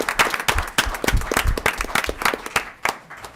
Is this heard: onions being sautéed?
no